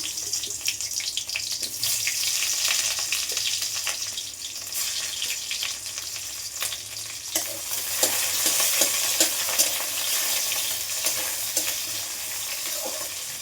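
Garlic fries in a pan over low to medium heat for a chicken stew, giving a loud, continuous close sizzle with scraping stir sounds throughout and no talking.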